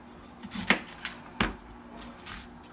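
A knife chopping the ends off an onion on a cutting board, two sharp, close cuts plus a few lighter taps, quiet and alone.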